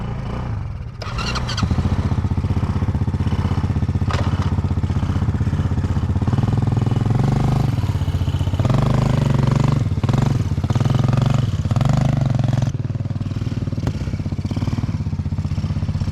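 A Kayo Bull 125 motorcycle starts up and runs with a steady, loud close-up engine drone, the revs rising and falling as it rides off and keeps going, with brief clatter along the way.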